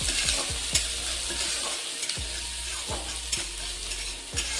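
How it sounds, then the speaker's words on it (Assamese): Onion and chopped chillies fry in a pan with a steady sizzle, while a spatula repeatedly scrapes and stirs in a regular rhythm, close up with no talking. "এতিয়া এইখিনি অকণমান ৰঙচুৱা হোৱালৈ ভাজি লওঁ।"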